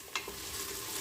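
Tomato paste is stirred into onions and garlic frying in a pan. A brief soft scrape is followed by a low, even sizzle, fairly faint, with no talking.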